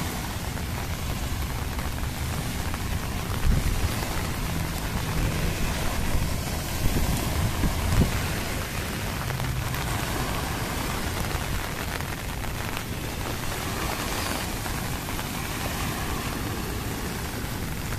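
Typhoon rain and gusting wind over Manila Bay, a steady broadband roar of downpour and wind buffeting that holds loud and even throughout, with no voices.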